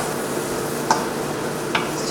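Chicken and vegetables stir-fry in a pan with a steady soft sizzle, broken by two brief clicks of a utensil against the pan, close by and with no voices.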